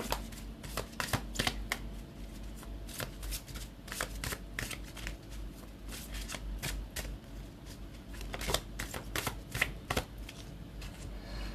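Tarot cards shuffled by hand in a steady stream of crisp riffling and slapping bursts, close up and alone throughout, with no talking.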